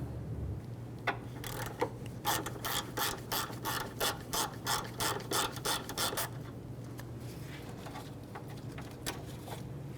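A hand ratchet clicks in a steady run of quick strokes while backing out the mounting bolt on a serpentine belt tensioner of a 1998-2002 Honda Accord, close and fairly loud over a low engine-bay hum.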